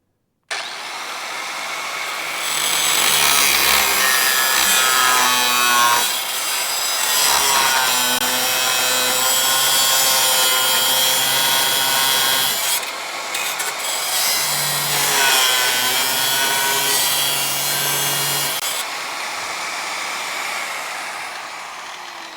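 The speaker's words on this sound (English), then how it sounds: "we'll get the rest with the Dremel" Dremel rotary tool with a cutting disc slicing through metal on a Crew Cab Charger restoration, a loud sustained grinding screech that wavers in pitch as pressure changes, with a few brief dips between cuts and no talking.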